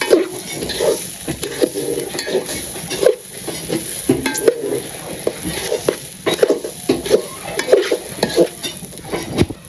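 Rice and chicken biryani stirred in a pot over a clay village stove: repeated scraping strokes of a spoon against the pot with sizzling and frying underneath, close and fairly loud, no talk.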